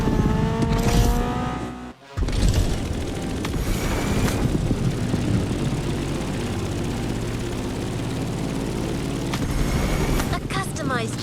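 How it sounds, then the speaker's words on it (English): A customized Lamborghini Aventador's engine drones loudly and steadily while driving in The Crew Motorfest, rising briefly in pitch. A short drop in the sound comes early, and a voice speaks over parts of the run. "A customized Lamborghini Aventador."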